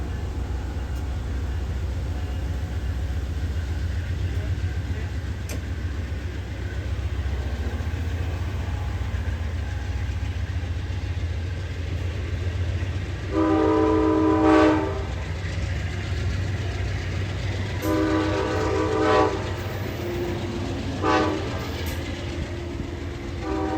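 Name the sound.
CSX freight train starting to move, sounding horn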